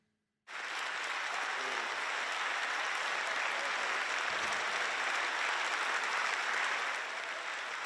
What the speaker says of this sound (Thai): เสียงปรบมืออย่างกึกก้องและยาวนานโดยสมาชิกสภาผู้แทนราษฎรอิตาลี